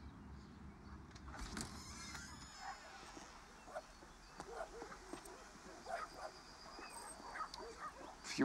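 A stray dog with no collar, newly taken in at a shelter, lets out a series of yips and soft whimpers amid a busy background, with a voice talking over part of it.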